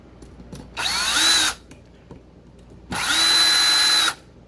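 A power driver tightens screws on a cable clamp in an electrical box during doorbell wiring, giving two close, loud whirring bursts of about a second each, separated by a short pause.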